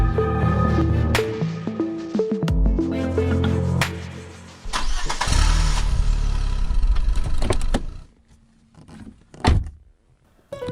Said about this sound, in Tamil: வண்டி ஸ்டார்ட் பண்ணுங்க.